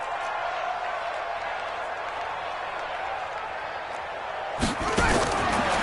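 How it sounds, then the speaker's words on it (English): A stadium crowd in the video game Madden 20 roars steadily as a big third down approaches, a dense broadband wash of cheering that swells slightly with a thump near the end. "The crowd getting into it as we come up on a big 3rd down."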